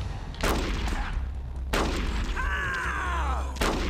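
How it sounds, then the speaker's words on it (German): Gunfire from the video game Metal Gear Solid: The Twin Snakes: three loud, sharp single shots spaced about a second or more apart, each with a short echoing tail over a low background game hum. "Ah, da kann ich immer nur einen Schuss abgeben."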